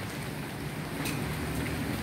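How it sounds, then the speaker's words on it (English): Heavy rain pours down on flooded streets in Chiang Mai, Thailand, a constant dense broadband hiss of falling water, loud and steady, with no speech over it. "So it's raining pretty hard right now."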